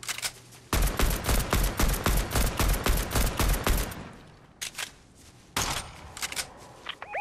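Rapid automatic gunfire in the Fortnite video game, a long burst of evenly spaced loud shots followed by a pause and a few scattered shorter bursts, with no talk.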